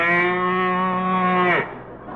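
A cow sound effect on a 1945 radio comedy show gives one long, loud, sustained moo that drops and fades off at the end, heard alone and close.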